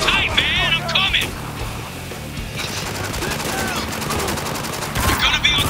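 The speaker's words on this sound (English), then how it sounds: "We got a man under heavy fire!" Heavy automatic gunfire rattles in bursts during a Spec Ops: The Line firefight, with shouting voices in the mix and engine noise underneath.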